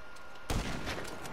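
A single sharp gunshot from the video game GTA 5 cracks out amid a steady noisy background, with faint rattling after it.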